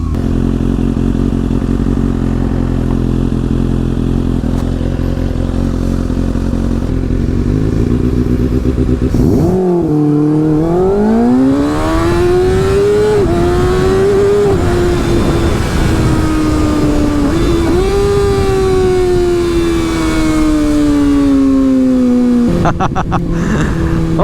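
A sport motorcycle engine runs loud and close, first at a steady rumble, then revs sharply and pulls up through the gears in rising, falling sweeps of acceleration before easing off near the end.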